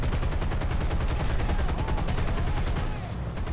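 Rapid, continuous machine-gun fire from the B-17 bomber's AI gunners in War Thunder rattles loud and close at enemy fighters, layered over a dense engine roar.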